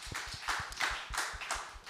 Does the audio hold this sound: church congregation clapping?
yes